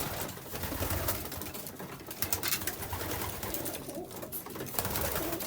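Racing pigeons in a loft coo softly while feeding, among scattered flutters and pecking clatter, at moderate distance with no talk.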